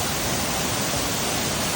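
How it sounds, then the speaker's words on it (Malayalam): Waterfall at Bangad in Kasaragod roaring as a steady, loud broadband rush, a dense continuous wash of falling water close by with no break. "ഇതാണ് വെള്ളച്ചാട്ടം"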